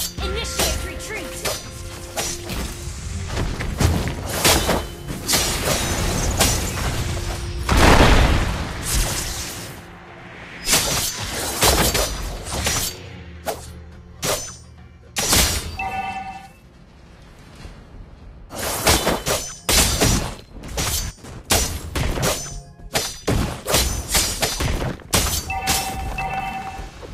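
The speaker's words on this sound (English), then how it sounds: "Our turret has been destroyed." Game turret being destroyed, heard as repeated loud shattering crashes and booming impacts in bursts, with sharp hits clustered near the end amid game effects.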